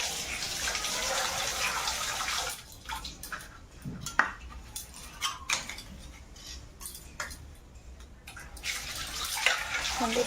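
Tap water runs and splashes in a kitchen sink while a metal wok is washed, with scattered clinks and knocks of the pan against the basin in irregular bursts at close range.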